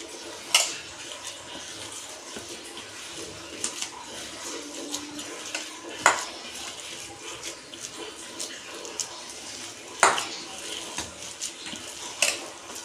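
Mashed potato mixture kneaded and squished by hand in a bowl for potato fingers, soft wet squelching with scattered sharper slaps near the mic, steady and unhurried throughout.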